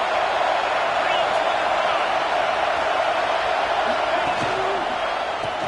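A stadium crowd in the College Football 25 video game roars steadily as a broad, continuous wash of cheering for the whole stretch, with an announcer's voice over it.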